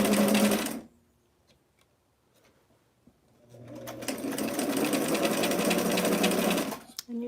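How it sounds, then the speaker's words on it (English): A vintage sewing machine stitches a dart in dress fabric, a close buzzing whir in two bursts separated by a quiet pause with small clicks, the second run lasting several seconds. "I'm sewing on a vintage machine"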